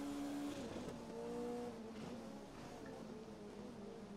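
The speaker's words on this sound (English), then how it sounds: "You hear the engine note waver" A BAC Mono race car racing up and over a hill, its high engine note climbing, wavering and dipping as it crests, heard steadily from a distance with no talk.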